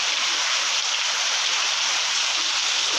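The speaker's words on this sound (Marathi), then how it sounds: "बघा पाऊस चालू राहिलो." Heavy rain pours steadily in a Ratnagiri village, a dense, loud, unbroken hiss of falling water with no pauses.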